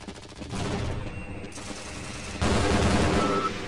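Automated turrets in Half-Life: Blue Shift fire rapid, continuous bursts of gunfire, rattling steadily and growing louder and denser partway through.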